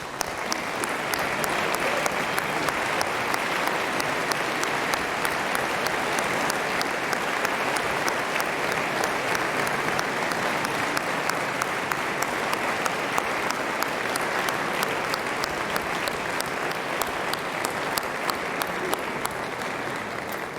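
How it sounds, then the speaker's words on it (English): A large audience at the ICPC World Finals 2019 opening ceremony gives the event staff sustained applause, a dense, steady wash of clapping lasting about twenty seconds without break. "let's give them a big round of applause."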